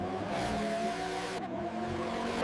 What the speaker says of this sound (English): When everything is ready, the SF90 doesn't build speed, it snaps to it.